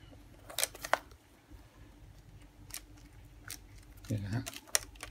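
A Minolta Hi-Matic AF-D compact film camera being handled, with its shutter advanced: sharp mechanical clicks scattered through the clip, close up, including a brief grinding rasp near the end, over a quiet room.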